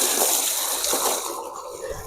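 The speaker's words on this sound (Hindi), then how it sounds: "ये मैंने इसको तोड़ दिया है और तोड़ने के बाद इसको इसमें हम पानी डाल देते हैं।" Water gushes and splashes steadily into a tub of broken-up coco peat for soil, a close, continuous pour that fills the whole moment without talk.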